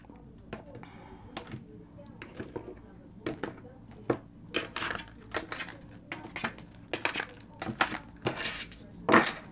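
Oracle card deck being cut and shuffled, with soft irregular taps, slaps and clicks of cards at close range, occurring alongside a person's speech.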